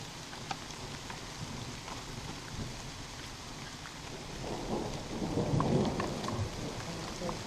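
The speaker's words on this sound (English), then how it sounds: "as usual it started to rain" Steady rain falling in Linville Gorge, a continuous patter of drops with distant thunder swelling to a heavier rumble past the midpoint, no voices.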